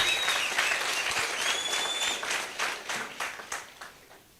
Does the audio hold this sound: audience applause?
yes